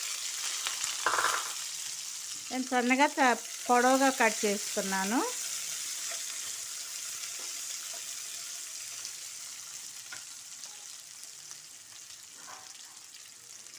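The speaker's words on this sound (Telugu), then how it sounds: "ఆనియన్స్ వేసినాను. పోపు వేగింది." Thinly sliced onions fry in a pan of crackling tempering, giving a steady soft sizzle heard up close while someone speaks briefly partway through.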